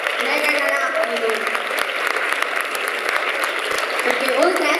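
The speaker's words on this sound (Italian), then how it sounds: "Poi un applauso mega galattico." A crowd at the Florence Queer Festival awards ceremony applauds steadily throughout, dense clapping at even strength from start to finish.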